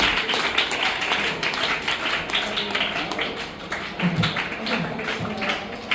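At a school sports day celebration, many children clap their hands. The clapping is steady, fairly faint and slightly distant, a continuous patter of claps with occasional voices mixed in.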